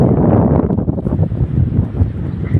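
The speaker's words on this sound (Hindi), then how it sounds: "पता नहीं गाइस कैसे इतनी तेज हवा चल रही है" Strong wind blows hard across the microphone outdoors as dark clouds gather. It makes a loud, gusty, low rumbling buffet that continues without a break, and no one speaks.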